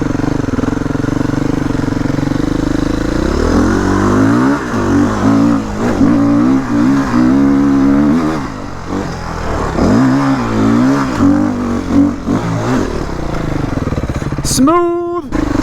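A Beta 480 RR dirt bike climbs a steep hill, its engine loud and close, revving hard in rising and falling bursts as the rider works the throttle, then braking off sharply at the top.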